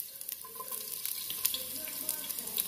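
Chopped onion fries in a little oil in a hot pan for mole con pollo, a faint, steady sizzle with scattered small crackles and pops.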